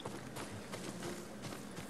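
Faint rhythmic clip-clop of a horse's hooves in the video game Ghost of Tsushima, a few quick irregular beats against a low background hiss.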